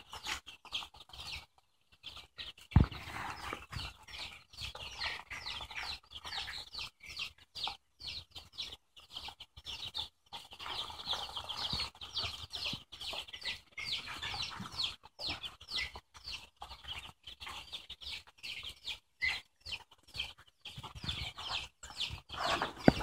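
Chickens cluck and murmur steadily for a long stretch, with a broad, busy texture of soft calls and occasional chirps, fairly faint and somewhat distant.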